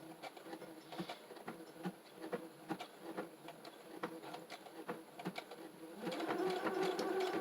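A sewing machine stitches fabric for a fabric junk journal, running in quick steady bursts with short pauses, then a longer continuous run near the end, close and moderately loud with no talking.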